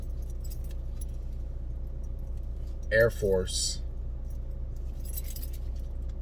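House keys on lanyards jangle in a couple of brief metallic bursts inside a car, over a steady low engine hum, with a voice briefly speaking.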